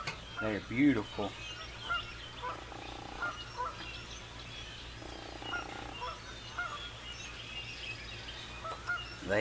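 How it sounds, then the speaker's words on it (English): Geese honk repeatedly outdoors, a series of nasal calls at moderate distance over a steady low hum and light background noise. "Hear the geese, the pretty geese."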